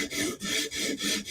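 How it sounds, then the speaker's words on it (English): A Hogue Deka knife tip is scrubbed back and forth on a sharpening stone, a close, steady rasping rub in four even strokes with brief pauses between them. "Scrubbing the tip to get a burr going."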